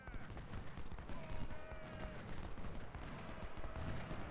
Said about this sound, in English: they're firing volleys at our artillery